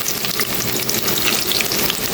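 Onion fries in hot oil with a loud, dense, continuous sizzle and crackle, steady and close with no breaks, no voices over it.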